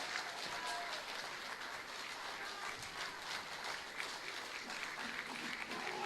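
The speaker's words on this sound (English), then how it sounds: "it's traditional after the last song that you stand up and take your applause" Audience applause at a school choir spring concert after the final song, a steady dense wash of clapping filling the room with faint voices mixed in.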